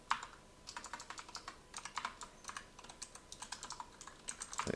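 Rapid keystrokes on a computer keyboard, a steady run of close, crisp clicks with uneven rhythm and no voices.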